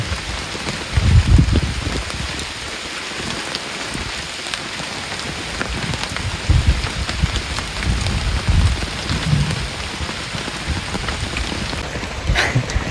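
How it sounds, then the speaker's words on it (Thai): Heavy rain pours steadily onto a cassava farm in a constant dense hiss, with low rumbling swells rising at intervals and no voices. "เนี่ยฝนตก"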